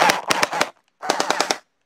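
A Bingfeng P90 v4 gel blaster toy fires two quick bursts of about four to five rapid shots each, snappy and close, separated by a brief pause.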